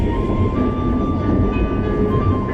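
A train in Vietnam rumbles steadily along the rails at close range, with a continuous low roar and faint tonal whine, no voices.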